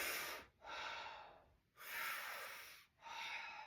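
Three deep, forceful breaths drawn in through the mouth during a guided breathing exercise, each a long rushing airy inhale separated by brief pauses, close and clear with no talking.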